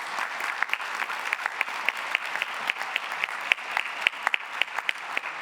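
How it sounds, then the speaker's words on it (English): An audience at a high school graduation ceremony gives a quick round of applause, a steady wash of clapping with distinct sharp individual claps standing out throughout. "Please join me in a quick round of applause for their efforts"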